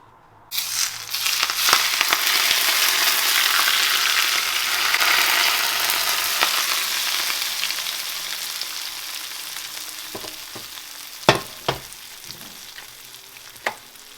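Hot oil poured over a bowl of Sichuan boiled fish made with freshly caught sculpin bursts into a loud, close sizzle that slowly fades, followed by a few sharp clinks.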